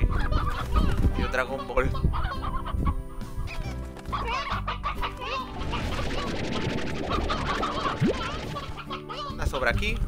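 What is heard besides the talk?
chickens clucking in video game Slime Rancher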